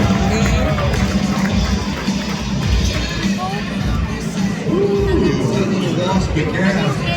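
At the Calgary Stampede rodeo, a loud crowd roars and cheers continuously after a cowgirl's run, a dense wall of hubbub with a commentator talking over it.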